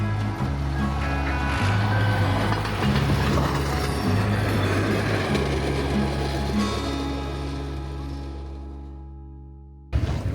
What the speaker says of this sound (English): There's a tiny train coming.